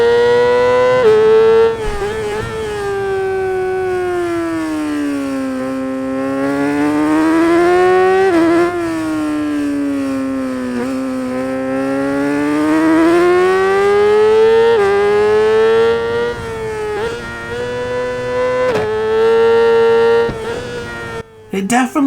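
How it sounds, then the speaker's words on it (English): Motorcycle engine in the Ride 5 racing game, a loud continuous tone that rises and falls with revving and gear shifts, running steadily with no talk before cutting off at the end. "I'll give you a little bit of a chance to listen to the bike so you can tell me what you think regarding the sounds"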